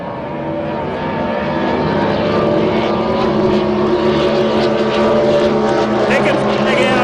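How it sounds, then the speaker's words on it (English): A blown injected 6-litre racing boat engine roars loudly and continuously during Easter 2023 powerboat racing, its pitch swelling gradually, with a commentator talking over it. "it is the sheer horsepower of the blown injected 6-litre blown injected"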